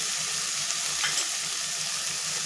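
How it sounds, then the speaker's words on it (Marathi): Cooked pasta fries with dark soy sauce in a pan, giving a steady, moderately loud sizzle with a faint stirring scrape near the middle and no talking. "आणि आपण शिजवून घेतलेला पास्ता हे टाकून आपल्याला फ्राय करून घ्यायचे आहे।"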